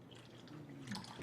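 Water poured from a height onto a tea bag in a cup, a soft continuous trickling and splashing stream, close and fairly quiet, with no talking over it.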